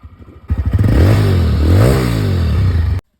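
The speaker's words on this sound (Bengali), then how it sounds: "যেটা হচ্ছে সিম্পল একটা টাচ করলেই বাইক স্টার্ট হয়ে যাচ্ছে" A TVS Raider 125 motorcycle fires up at the touch of its starter: a short cranking clatter, then the engine catches and revs up and back down loudly and close, cutting off abruptly.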